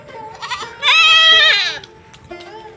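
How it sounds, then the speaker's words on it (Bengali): Goats bleat loudly nearby on a road, one long wavering cry in the middle with shorter bleats before and after. "এখানে যে ছাগলগুলো রাস্তার মধ্যে এত ডাকাডাকি করছে"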